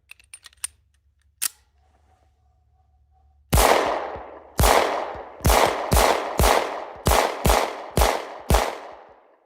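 Loud pistol shots from a Beretta 9000S .40 caliber handgun firing a magazine. Seven sharp reports ring out at irregular, fairly quick intervals, each with a short decaying echo, after a few faint handling clicks.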